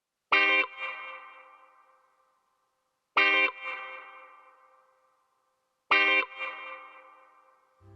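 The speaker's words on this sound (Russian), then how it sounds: "Очень показательный для Space Echo эффект." A Space Echo tape-style delay effect processes three separate sharp, bright bursts spaced evenly apart, each trailing into decaying repeats and reverberant tails that fade into silence.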